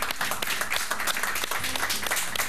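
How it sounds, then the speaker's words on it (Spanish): Studio audience on a late-night Argentine TV interview show applauding a guest, a dense burst of clapping heard up close and steady for the whole stretch. "Un aplauso a María Socas, que estuvo con nosotros."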